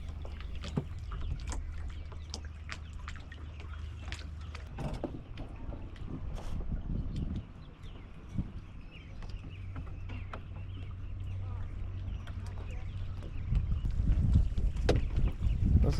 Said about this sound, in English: This is where the freshly painted bottom makes a difference. We're just ghosting along here, next to no wind.